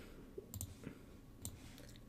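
Several sharp, faint computer mouse clicks sound in quick pairs and singles while lines are selected in CAD software, close and quiet against a low background hum.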